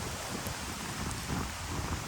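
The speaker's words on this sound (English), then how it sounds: "I'm hoping that it'll stop raining soon because in Florida, it's unpredictable, especially in summer" Rain falling steadily in a Florida park during summer, a continuous, even hiss of drops with no voices, moderately soft and unbroken throughout.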